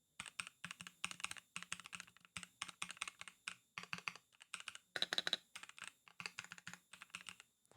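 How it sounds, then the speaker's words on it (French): Rapid typing on a mechanical keyboard with non-flat, lubricated switches: close, crisp keystrokes in quick bursts separated by short pauses, with the rhythm holding steady throughout. "Et ça, c'est un clavier mécanique avec des switches non plats."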